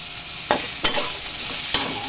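Garlic and onion sautéing in a pan, a close sizzle broken by three sharp scrapes of a utensil stirring against the pan.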